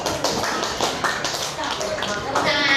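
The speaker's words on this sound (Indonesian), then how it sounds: "Tepuk tangan untuk kita semua" A classroom of pupils claps together in a brief burst of quick, patchy hand claps, close and lively, with a teacher's voice mixed in.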